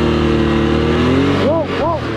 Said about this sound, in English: So a couple neutral revs.